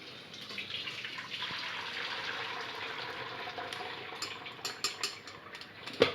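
Curdled milk for homemade paneer pours into a strainer with a soft, steady trickling splash, faint and close, ending in a few brief clinks near the end.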